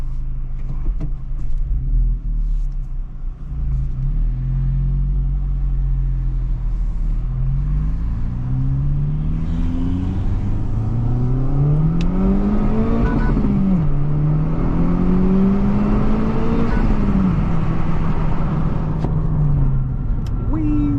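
A Honda Civic Type R with factory exhaust and resonator delete pulls hard from inside the cabin, engine note climbing steadily through the gears with a loud, continuous rumble and some exhaust pops.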